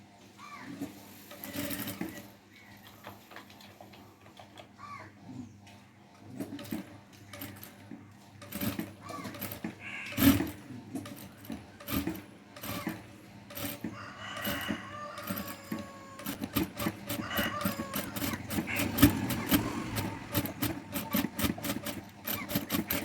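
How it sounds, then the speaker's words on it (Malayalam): A sewing machine stitches pleats into fabric for a small cloth flower meant for a hair bow or dress, its rapid mechanical chatter running in bursts and growing steadier toward the end, with roosters crowing and hens clucking in the background. "നമ്മൾ ആദ്യമേ തന്നെ ഒന്ന് മെഷീനിൽ വെച്ചൊന്ന് പ്ലേറ്റ് ഇട്ട് കൊടുക്കണം കേട്ടോ"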